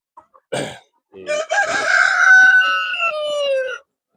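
A rooster on a desi poultry farm crows loudly and close by in one long drawn-out call, preceded by a few short clucks.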